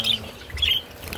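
Pet birds chirping in a home aviary, with two short bright chirps separated by a pause over low background rumble.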